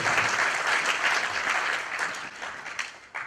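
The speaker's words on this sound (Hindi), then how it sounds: "आपकी संवेदनाओं को नमन करते हुए तालियां के लिए गौरी जी को।" An audience at a poetry recital claps loudly and steadily, a dense burst of applause that thins slightly toward the end.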